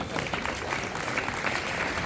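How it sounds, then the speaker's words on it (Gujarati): Audience applause at a student honors ceremony held by a community association in Diu: steady, dense clapping from a crowd fills the whole stretch at moderate loudness, with a voice faintly present underneath. "તાળીઓ પાડો યાર"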